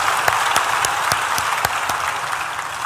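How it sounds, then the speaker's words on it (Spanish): Sustained applause from a church congregation, dense and steady for about three seconds, with a few sharp individual claps standing out close by and no talk. "Así es que denle un aplauso al que merece toda la gloria."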